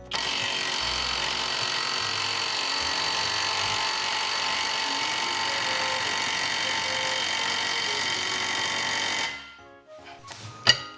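An impact wrench rated at 280 N·m hammers a nut twister onto a bolt with a loud, continuous metallic rattle for about nine seconds, then stops, leaving a few faint clicks and handling knocks.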